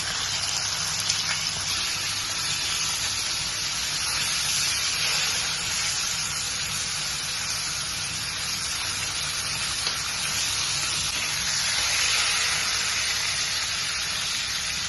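Mangalore-style bangude (mackerel) fries in hot oil, a continuous close, loud hiss and sizzle holding steady for the full stretch with no speech.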